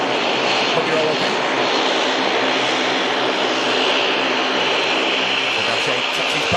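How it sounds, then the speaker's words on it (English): Dash 8 turboprop taxiing past a runway viewing park at Manchester Airport in thick fog, a loud, steady propeller drone and engine roar sustained throughout. "The Dash 8 taxis past us at the awesome runway visit park."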